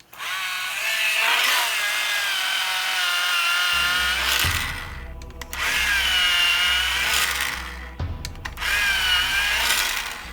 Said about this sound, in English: Let me get a sharpener.